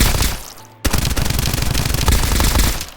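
An elemental electric-type gun fires in Escape from Duckov. A quiet moment breaks into a loud, sustained burst of rapid automatic shots that continues to the end.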